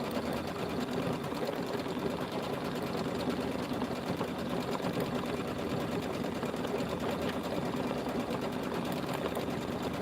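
Embroidery machine stitching Lori Holt Zippy Bags with fill stitches, a steady, loud mechanical whirring hum that runs unbroken and close throughout, with no voices.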